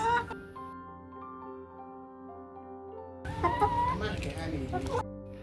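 Chickens cluck and chatter in a burst midway, over a sustained musical drone with steady tones.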